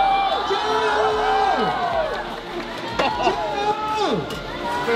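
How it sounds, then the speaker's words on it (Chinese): A street crowd claps, cheers and shouts encouragement for a contestant tackling a 7-kilogram meatball noodle soup eating challenge. Voices rise and fall over steady clapping, with loud talk throughout. "我们再给丁丁掌声鼓励一下吧"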